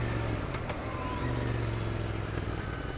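A Royal Enfield Interceptor 650 motorcycle engine hums and revs close by in a short burst, a rough mid-pitched drone with a brief rising note.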